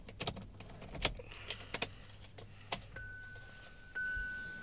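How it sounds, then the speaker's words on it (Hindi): Inside a 2023 Kia Sonet HTK+, soft clicks and button presses lead up to the engine starting near the end, settling into a quiet, steady hum. "पहले गाड़ी स्टार्ट कर लेता हूँ"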